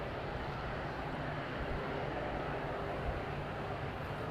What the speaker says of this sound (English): Here it comes, EasyJet for the second attempt.